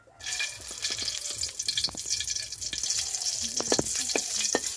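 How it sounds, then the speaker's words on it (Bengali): Dried red chillies fry in hot oil with a continuous bright hiss and scattered small pops and crackles, close and moderately loud throughout. "শুকনো লঙ্কাগুলো ভেজে নিই"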